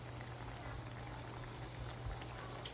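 Vegetable pakoras deep frying in oil over low heat give off a steady, dense bubbling hiss, close and continuous like a gentle boil, with no voices over it.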